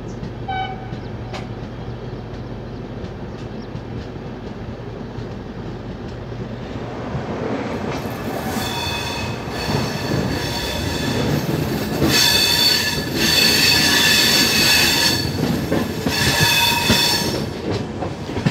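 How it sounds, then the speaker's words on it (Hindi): The Hyderabad-Jaipur Special passenger train rolls onto the Bhusawal bypass line, heard from on board as a steady rumble that builds into loud, sustained wheel squeal with rhythmic clickety-clack of the carriages. "तो यहाँ हमारी ट्रेन घुस चुकी है बाईपास लाइन पे"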